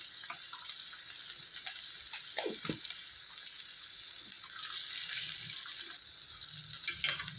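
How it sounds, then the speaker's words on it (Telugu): Chicken frying with onions and salt in a pan, a steady close hiss and sizzle with occasional stirring scrapes running throughout, fairly quiet and without talk. "చికెన్ని చక్కగా లైట్ గోల్డెన్ బ్రౌన్ కలర్ వచ్చే వరకు ఫ్రై చేసుకోవాలి"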